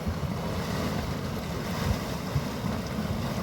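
Swirling water in a natural steaming pool, a continuous low churning rush that stays steady and moderately loud throughout, with no voices.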